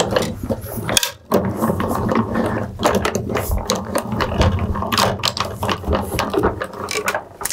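A Sizzix die-cutting machine feeds a card through its rollers with a close mechanical whirring and ratcheting. The sound carries on for several seconds, with a short pause near the start.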